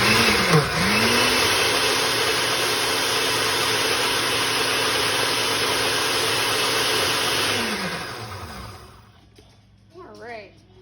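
A kitchen blender purees green pesto, its motor spinning up into a loud, steady whirring roar that holds for several seconds before winding down, followed by a brief voice.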